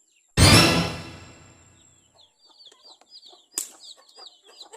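Native chickens in a backyard poultry area: a loud burst of flapping or squawking at the start, then soft, scattered clucks and chirping close by with no talk.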